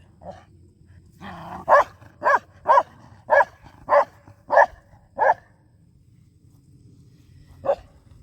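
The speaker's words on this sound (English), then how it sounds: "This damn dog's running and jumping and this kid's crazy." A recently neutered dog runs and jumps about, letting out a steady run of about eight sharp, loud barks close by, then a single last bark after a short pause.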